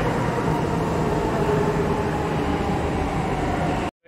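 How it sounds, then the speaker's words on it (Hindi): A metro train arriving at Azadpur station in Delhi, with a loud, steady rumble and rail roar filling the platform before cutting off abruptly. "ये मेट्रो आ चुकी है।"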